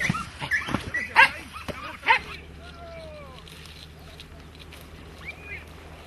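Hunting dogs yelp and whimper in short excited bursts at close range while catching rabbits, then quiet down to faint background noise with a distant whine.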